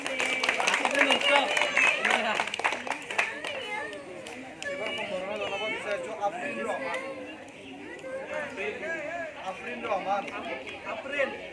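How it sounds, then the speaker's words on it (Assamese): An audience claps at a student felicitation ceremony. The clapping is brisk at first, then fades into steady crowd chatter and children's voices. "জোৰ কৰি হাত চাপৰি দিয়ক"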